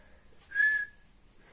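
A young child with missing front teeth tries to whistle at home, producing one thin, steady whistled note lasting about half a second, soft and fairly close, with near silence around it.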